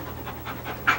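A greyhound pants in quick, rhythmic breaths, close and fairly loud, with a stronger exhale near the end.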